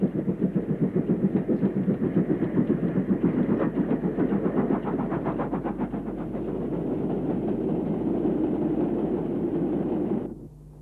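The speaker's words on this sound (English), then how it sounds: "This mogul was on an iron ore train from Banbury." A mogul steam locomotive hauls an iron ore train from Banbury, giving a sustained loud rumble with rapid rhythmic wheel clatter over rail joints that holds for about ten seconds and then stops abruptly.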